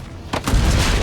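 A single deep cannon boom sounds in the video game Assassin's Creed Brotherhood, fired from cannons on a city wall, loud and close with a low rumbling tail.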